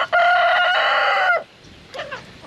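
A rooster on a farm lets out one loud, close, drawn-out crow, followed by a few softer hen clucks.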